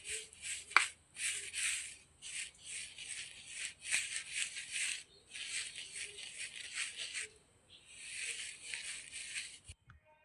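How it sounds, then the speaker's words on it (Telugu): Flour, baking soda and salt are shaken through a metal sieve for a sponge cake, making bursts of soft dry rattling and hissing that start and stop, with a couple of light taps on the rim, close and quiet. "ఇప్పుడు వీటిని జల్లించుకోవాలి"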